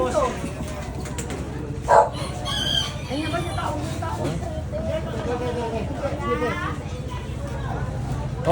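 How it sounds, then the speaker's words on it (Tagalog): Rooster crowing at a cleared-out street in Baclaran, heard faintly in the background beneath steady nearby conversation and street noise, with a sharp clatter partway through. "Okay na manok to, manok."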